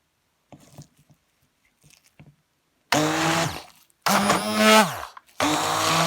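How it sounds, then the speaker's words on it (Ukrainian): After some faint clatter, a blender roars loudly in three close bursts, its motor pitch sliding down as each burst ends. "Блендером розіб'ю все."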